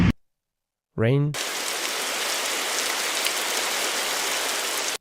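After a short spoken word, steady rain begins, a dense even hiss of drops falling on a surface that continues without change.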